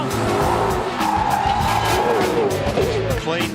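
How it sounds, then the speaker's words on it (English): Supercars race cars in a massive multi-car crash during a championship race opener, tires skidding and squealing under roaring engines, loud and continuous, with a commentator talking over it. "Oh, they're doing a massive crash."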